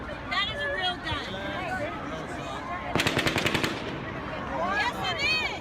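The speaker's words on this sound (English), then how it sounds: "That is a real gun." Automatic gunfire from the Las Vegas shooting: a fast burst of about ten sharp, evenly spaced shots at a distance, with crowd voices and shouting heard before and after.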